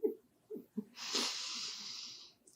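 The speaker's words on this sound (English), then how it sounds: "let's take a deep breath" Someone draws a long, deep breath in as a soft, airy hiss lasting over a second, after a few short breathy sounds, close and quiet.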